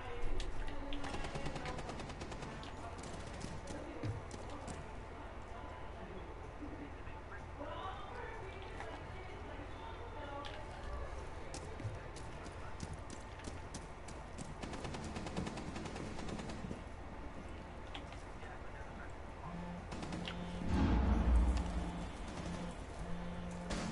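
Gunfire in a video game shootout, with scattered shots and rapid bursts crackling through a busy, continuous background and one heavier blast near the end, while players talk over the action.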